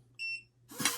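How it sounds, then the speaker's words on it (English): A fingerprint lock on an RPNB gun safe gives a short pair of high electronic beeps, followed by a loud burst of clattering handling noise. "2 beeps means that that fingerprint is now registered"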